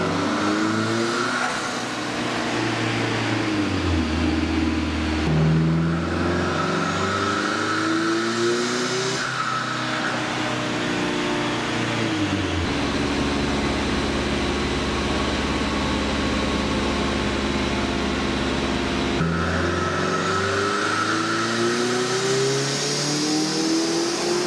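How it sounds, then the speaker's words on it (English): A turbocharged four-cylinder Mazda Miata engine revs hard on a dyno pull in Southern California, repeatedly climbing in pitch through the gears with loud, continuous engine drone and brief drops between runs. "So there's the first pull of the day, 311 horsepower on wastegate spring"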